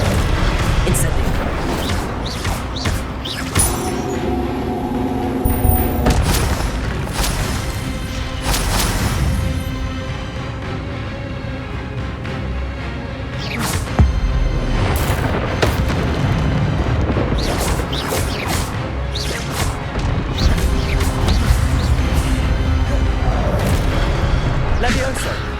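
Incendio fire spell blasts in Hogwarts Legacy, loud booming bursts repeating irregularly through a busy battle with other spell effects and constant layered combat noise.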